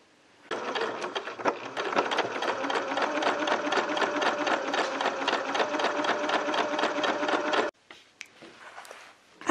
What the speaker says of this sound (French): je vais rajouter ma petite couture ici